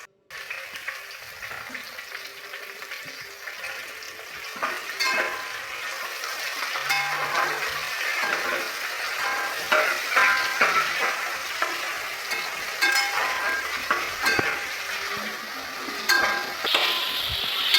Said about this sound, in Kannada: ಫ್ರೈ ಮಾಡ್ಕೊಂಡಿದ್ದಾದಮೇಲೆ ಆನಿಯನ್ ಹಾಕ್ಕೋಬೇಕು. ಈರುಳ್ಳಿ ಚೆನ್ನಾಗಿ ಹಸಿ ವಾಸನೆ ಹೋಗೋ ಗಂಟ ಹುರ್ಕೊಳ್ಬೇಕು.